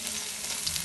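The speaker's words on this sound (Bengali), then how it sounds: "পেঁয়াজ কুচি আস্তে আস্তে ঢেলে দিচ্ছি" Chopped onions hitting hot oil give a steady, fairly quiet sizzle with a broad hiss that holds evenly through the brief moment, no voices over it.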